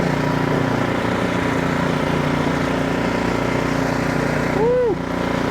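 Ariens Professional 28-inch snowblower engine running steadily and loud throughout, a continuous close drone with a steady hum and a brief pitch sweep near the end.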